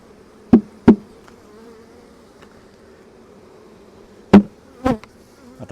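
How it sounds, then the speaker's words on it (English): A packed honeybee colony in a hive during winter preparation hums low and steadily, broken by a few loud, sharp knocks from nearby handling of the frames. "there's a lot of bees in there."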